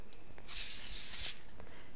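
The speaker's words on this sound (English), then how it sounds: "I like to spray it with a little bit of olive oil" Olive oil sprayed from a pressurized can onto a foil-lined baking sheet before roasting vegetables: one steady, close hiss lasting under a second, with no talking.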